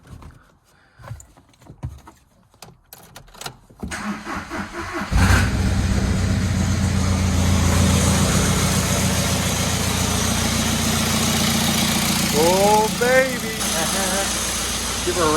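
A VW TDI diesel with a big turbo cranks over amid quiet handling noises and a few voices, catches, and settles into a loud, steady, rough idle, with brief chirping whistles near the end.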